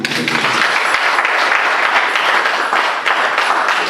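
A church congregation bursts into loud, sustained applause, dense and continuous clapping filling the hall with no pause for the whole stretch.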